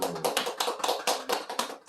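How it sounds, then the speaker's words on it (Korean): Quick run of sharp, irregular claps from an audience at a lecture, brief bursts spread across the moment, moderately close and without talk. "자, 박수."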